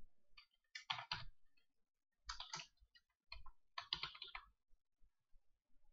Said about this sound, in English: Type the site title here.